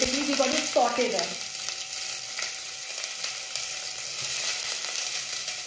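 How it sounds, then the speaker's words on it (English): Ingredients sauté in a pan over a low flame for chicken biryani, giving a steady, soft, close sizzle with a few light stirring sounds near the start and a thin high whine throughout. "Low flame basically, we got to saute them."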